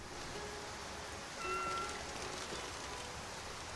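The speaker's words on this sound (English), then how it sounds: "It's raining." Rain falling in Skyrim with the LoreRim mod pack, a steady soft hiss of rainfall throughout, with brief faint tonal ambient notes drifting over it.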